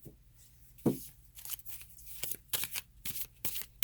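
Slick tarot cards being shuffled, with a sharp riffle near the start and then repeated crisp flicking and sliding bursts, close and fairly quiet with no talking.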